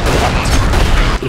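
A loud, dense explosion in the video game Magicka, a broad rumbling blast that fills the short moment before cutting off abruptly.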